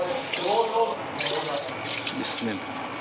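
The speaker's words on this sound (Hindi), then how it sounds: "चावल हमारे पास 1 किलो थे तो 4 गिलास इसके अंदर हम पानी डालेंगे।" Water pours steadily into a cooking pot for aloo chana pulao, a continuous splashing rush heard close, while a person talks over it.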